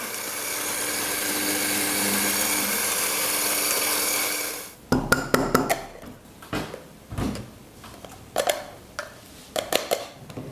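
Eighteen grams of coffee beans being ground for a moka pot espresso, a steady continuous grinding roar lasting several seconds that stops abruptly, followed by scattered clatters and knocks of handling the grinder.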